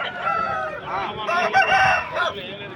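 A two-year-old rooster weighing over three and a half kilograms crows loudly and close up at a Vijayawada poultry market, one long, drawn-out call with wavering pitch that fills nearly the whole stretch.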